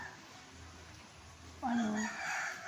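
A single rooster crows once at a moderate distance during rainy weather, after a quiet stretch of soft background noise.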